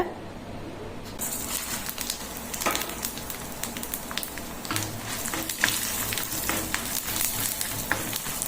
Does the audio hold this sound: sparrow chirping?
no